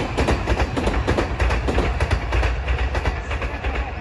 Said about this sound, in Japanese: すごいナイスなタイミングで電車が来た